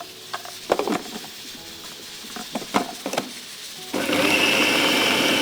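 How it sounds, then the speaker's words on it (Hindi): An electric chopper blends a chicken kabab mixture; a few knocks and taps come first, then the motor starts with a loud, steady whirring grind for the final second and a half. "इसको मैं अच्छी तरह ब्लेंड करके उतार रही हूँ"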